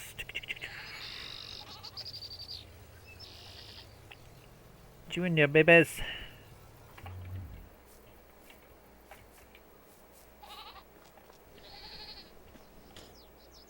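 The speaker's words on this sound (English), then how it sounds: "We got our goats. Some more goats." Goats in the Farming Simulator 22 video game, on a 1960s-era farm map, let out one loud wavering bleat midway, with fainter farm sounds around it while someone talks at the start.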